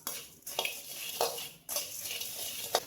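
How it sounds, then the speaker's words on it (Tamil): Puffed rice is dry-roasted and stirred in a pan over a low flame, making several distinct scraping, rattling strokes with a soft rustle between them and no talk. "பொரி ஃப்ரெஷ்ஷாக வாங்கியிருந்தாலும் நம்ம அடுப்பை சிம்மில் வச்சு 2 நிமிஷம் வறுத்துக்கலாம்"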